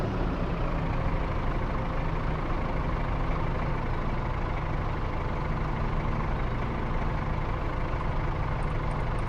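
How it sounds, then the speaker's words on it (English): A tractor engine in Farming Simulator 22 idles with a steady, loud diesel drone, deep and constant throughout with no talk over it. "Love the sound of those tractors."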